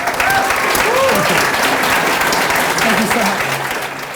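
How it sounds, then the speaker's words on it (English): A live audience at a tech podcast event breaks into steady, full applause that fills the room, with a voice briefly speaking over the clapping. "Round of applause."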